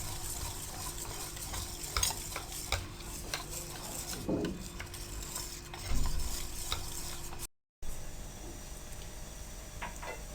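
A utensil stirs a thick kadhi mixture of gram flour in a pot, with soft scraping and scattered light clinks, close by and with no talking.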